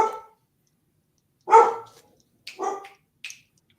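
A dog barks loudly and close by, giving about four sharp barks separated by short silences.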